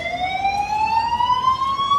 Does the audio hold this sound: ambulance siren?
yes